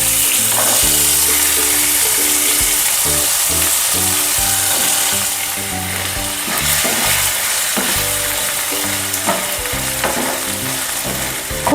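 Boiled dried peas for ghugni frying in a pan of hot oil seasoned with fenugreek and panch phoron, giving a loud, steady sizzle with occasional stirring that runs unbroken throughout.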